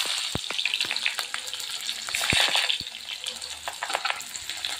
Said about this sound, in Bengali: এখন আমি তেজপাতা আর জিরে দিয়ে দেব, তারপরে দিয়ে দেব পেঁয়াজ কুচি।